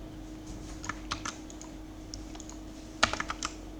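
Computer keyboard typing during a C programming lesson: scattered soft keystrokes, then a louder cluster of quick presses near the end as enter is struck, close and fairly quiet.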